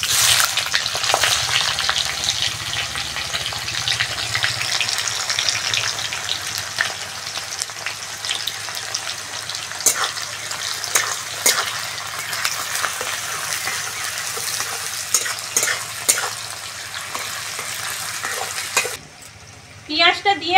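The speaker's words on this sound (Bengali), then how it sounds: "পেঁয়াজটা দিয়ে হালকা একটু ভেজে নিয়েছি।" Chopped onions fry in oil in a pan for a thin Bengali chicken jhol with vegetables, a steady close sizzle with occasional stirring scrapes for about nineteen seconds before it cuts off.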